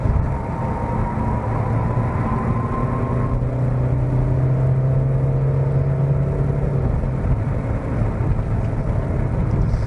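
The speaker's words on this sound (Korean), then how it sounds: "2리터급 디젤 엔진을 적용을 해서 그런지 몰라도 굉장히 경쾌한 느낌의 네, 가속 성능을 경험을 할 수가 있습니다" Steady engine drone and road rumble from inside a Volkswagen T-Roc with a 2-litre diesel engine on a highway, the low hum rising slightly in pitch as it accelerates, with no talking.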